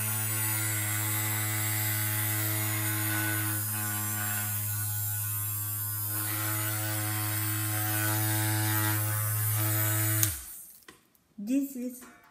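A Matoba Massage Wonder handheld massager runs at high speed with a loud, steady electric hum and buzz for about ten seconds, then cuts off abruptly, followed by brief faint clatter.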